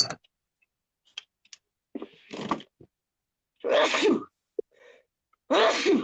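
A single sharp human sneeze bursts out at close range, set among sparse clicks and small handling noises in an otherwise quiet room, with a couple more short breathy bursts nearby.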